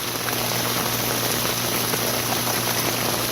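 Steady heavy rain from a Florida summer storm, a dense continuous hiss of drops pattering on surfaces nearby, unbroken and fairly loud with no voices.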